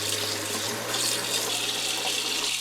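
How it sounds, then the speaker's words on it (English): Cold tap water pours steadily over boiled seaweed in a sink, a bright continuous splashing stream with a faint low hum beneath, close and fairly loud, no voices. "Rinse them under cold water."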